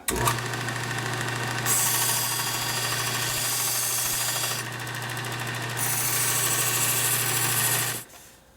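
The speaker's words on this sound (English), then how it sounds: "I move to a leather belt with green compound to put a burnish on the blade" A knife blade burnished on a powered leather belt loaded with green compound: a loud, steady motorized whir with a constant low hum, harsher rasping stretches as the blade presses on, then winding down at the end.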